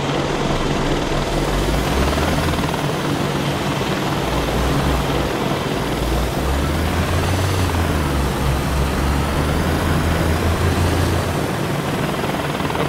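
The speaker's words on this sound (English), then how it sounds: "Woohoo, Red, we have a heli, man." A video game helicopter flies with a steady, loud rotor thump and engine drone, holding constant throughout with no talk.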